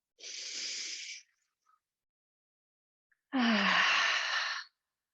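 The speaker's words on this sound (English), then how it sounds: "Deep breath. Exhale." A deep breath during a yoga session: a soft airy inhale for about a second, a pause, then a longer, louder exhale with a slight voiced catch at its start, close and alone in a quiet room.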